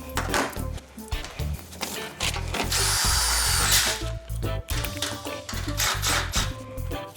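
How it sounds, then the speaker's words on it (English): Power nut driver with a 3mm bit driving self-tapping screws into a V-Track rolling grow bench, giving repeated loud whirring bursts in short spurts, with one sustained high-pitched run in the middle. "We're now gonna use the self-tapping screws, so we're gonna switch over to the 3mm nut driver."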